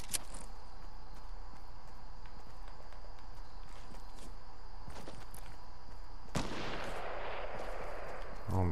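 Sharp, scattered gunshots crack through a Fortnite match amid footsteps and ambient game noise, with a heavier blast near the end followed by a dense rush of sound.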